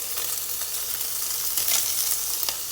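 Onions and cabbage with Spam frying in a pan, a steady close sizzle with a few brief stirring scrapes and no talking.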